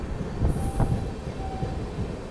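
The 12809 Howrah Mail train runs along the track with a steady, loud rumble, its wheels giving off thin, high squeals, heard alone with no voices.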